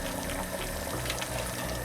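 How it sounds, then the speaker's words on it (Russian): Water poured into a pot of carrots and peas while making Samarkand plov: a steady, dense splashing rush that runs unbroken throughout. "Воду нужно немного подлить для того, чтобы создавался паровой эффект."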